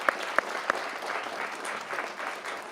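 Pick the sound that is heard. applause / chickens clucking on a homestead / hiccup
applause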